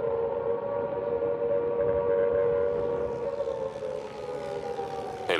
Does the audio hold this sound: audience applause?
no